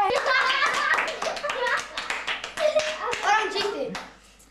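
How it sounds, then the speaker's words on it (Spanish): Hands clap in quick bursts through a lively family scene as a child dances, with chatter and children's voices over and between the claps. "Aplauso, aplauso."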